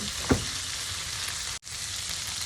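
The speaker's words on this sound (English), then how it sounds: "This has got about another minute of sauteing before we go to the next step" Andouille Creole sautéing in a pan, a steady broadband sizzle with one brief utensil knock near the start and a momentary dropout midway.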